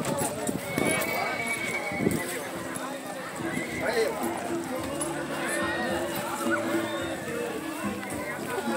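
Horses and a donkey lined up at a sertão cavalcade, with hooves clopping and occasional whinnies amid steady crowd murmur and nearby talking throughout.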